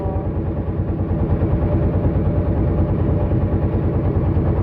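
A trawler boat engine on Kaptai Lake, Rangamati, idles loud and steady, a continuous low chugging throb with no break.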